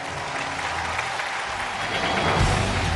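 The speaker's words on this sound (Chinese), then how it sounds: "掌声请出这一对，掌声有请。" Sustained applause from a studio audience at a television dating and relationship show, dense and steady throughout, swelling slightly louder toward the end with no voices over it.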